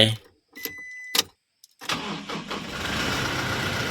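A car with a dead battery, jump-started from an OSUKA battery, gives a few sharp clicks, then cranks briefly and catches into a steady, loud idle nearby.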